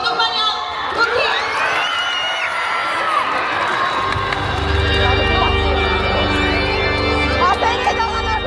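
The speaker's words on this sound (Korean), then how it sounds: "올해 더욱 뜨거운 박수와 함성 부탁드리겠습니다" A large crowd at a CookieRun: Kingdom fan festival cheers and shouts excitedly with scattered whoops and some clapping, a dense roar of voices that swells louder partway through.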